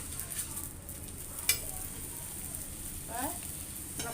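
A wheat parotta fries in oil in a pan, giving a steady soft sizzle with a sharp utensil clink early on and brief scraping near the end.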